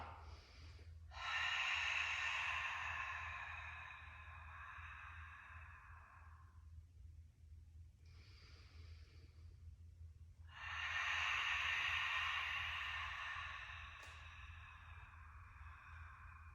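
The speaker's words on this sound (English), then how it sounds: "So this is where I'm gonna take my breaths. Inhaling into the chest and back, exhaling from the bottom up" A person does a deadbug exercise with a block hold, breathing deeply with two long, close, audible breaths a few seconds apart over a low steady hum.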